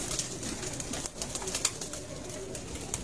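Faint cooing and scattered light calls from a flock of flying pigeons at a Lyari, Karachi loft, with occasional brief clicks and possible wing flutters over low, steady ambient noise.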